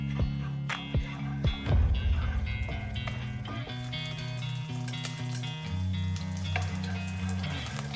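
Butter with ginger garlic paste, cinnamon and cloves frying in a pan, a steady close sizzle with a few sharp crackles, under background music and with no talking.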